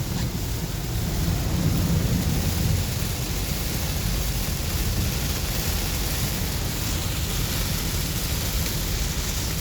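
Heavy rain drums steadily on a 2019 Dodge Charger V6 with an 8-speed automatic and rear-wheel drive while it is driven on a highway, with a dense, unbroken wash of noise and low road rumble throughout.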